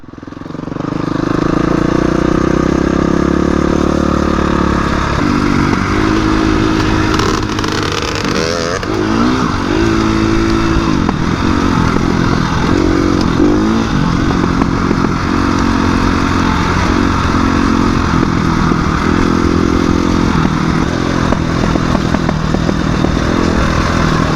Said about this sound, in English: We got a lot of bikes coming through, just so you guys know.